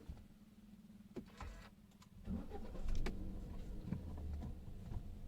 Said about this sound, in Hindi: गाड़ी करते हैं स्टार्ट।